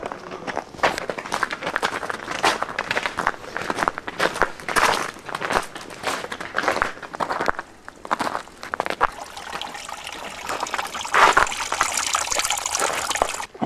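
A waterfall at the end of a river pours in a steady, loud broadband rush, with scattered bursts of movement and splashing across the whole stretch and no clear talk.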